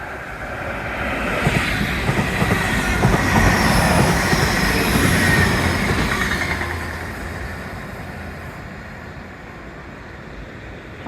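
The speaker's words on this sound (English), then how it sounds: "This is the Penzance to Paddington." A Penzance to Paddington passenger train rumbles past close by, building to a loud steady roar with faint wheel squeal, then fading away over several seconds.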